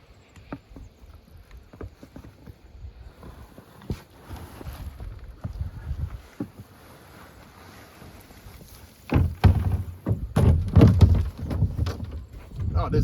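A rake scraping and dragging through moist garden mulch of pruning debris and twigs, close-up rustling strokes that start sparse and grow louder and denser in the second half.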